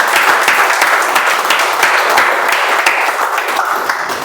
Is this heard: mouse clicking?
no